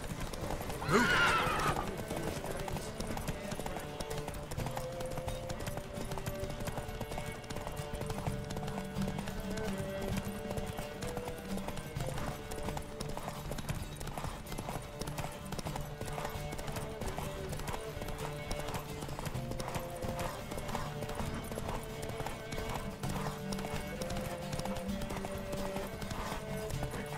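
Hooves clip-clop steadily through a horse race in The Witcher 3, with a neigh near the start, a continuous galloping rhythm at moderate level under faint music and occasional voices.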